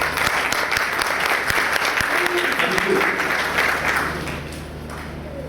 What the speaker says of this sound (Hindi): उनके लिए तालियां बजाएं।